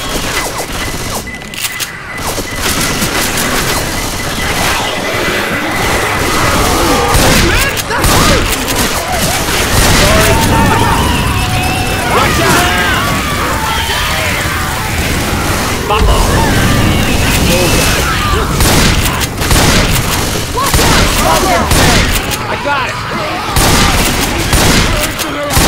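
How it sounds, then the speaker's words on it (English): Dense game combat from Left 4 Dead 2 on expert difficulty: continuous loud gunfire with heavy booming grenade blasts, sustained throughout with shouted voices over the din. "Grenade!"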